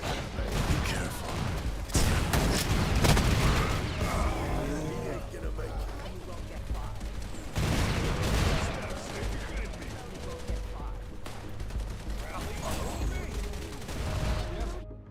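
Gunfire in the shooter Wild Assault, with repeated bursts and rattling volleys spread across fifteen seconds, some louder clusters, under ongoing voice callouts and game noise.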